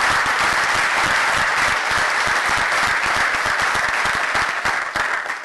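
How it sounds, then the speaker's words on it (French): A conference audience applauding the keynote speaker and panel members at a management event, dense sustained clapping from a large crowd that fades slightly at the end, loud and without speech. "Je pense qu'on peut les applaudir."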